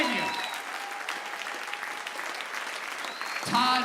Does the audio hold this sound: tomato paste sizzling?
no